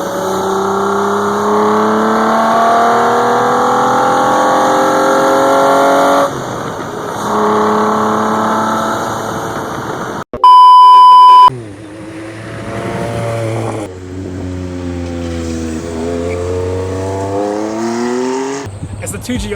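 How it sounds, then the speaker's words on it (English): Loud Toyota 3-liter V6 engine, 1MZ-FE, revving up and down in an MR2 Spyder, rising pitch sweeps, with a brief sharp horn-like blast partway through; a voice talks at times. "3-liter V6 engine that generates 194 horsepower and 209 pound-feet of torque"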